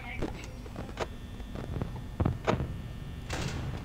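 Several dull thuds and clunks of a security door shutting in the Five Nights at Freddy's horror game, irregular and moderately loud, set against game ambience.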